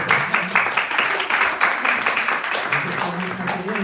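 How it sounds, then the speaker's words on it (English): An audience at a festival claps in a steady crackle of applause, moderately loud and sustained for several seconds, with a voice speaking over it. "So a big round of applause to her son, Hruday, who allowed her to do this performance."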